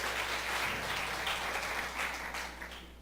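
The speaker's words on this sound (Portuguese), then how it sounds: "Mais forte as palmas, amém," A church congregation claps during an evening worship service, a steady dense wash of applause that continues throughout, moderately distant, with a faint voice underneath.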